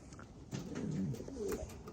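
Homing pigeons back at the loft after a training toss in heavy fog in Sacramento, cooing softly close by over a low rumbling background, with no voices.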